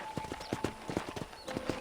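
Horse hooves clip-clop steadily in Red Dead Redemption, a rhythmic run of hollow clops over a constant game background hum.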